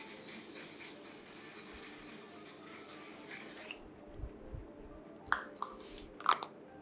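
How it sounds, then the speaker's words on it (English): One Size makeup setting spray lets out a steady, close hiss for nearly four seconds, then cuts off, followed by a few faint taps and handling noises. "Then I use this One Size setting spray to lock everything in place."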